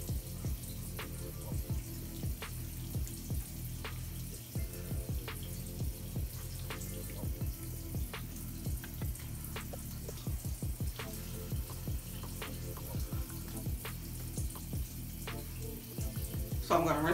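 Water runs steadily from a bathroom sink tap while a face is rinsed, a constant splashing stream with irregular spatters, close and moderately quiet.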